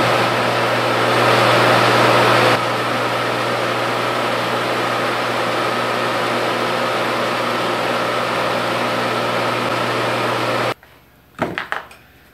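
A home-built phase converter's electric motor runs with a steady, loud mechanical hum and whine for about ten seconds, then cuts off into near silence broken by a few brief clicks.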